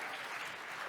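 An audience at a tech startup reverse pitching event gives a brief round of applause, a dense wash of clapping heard from a distance and fairly faint.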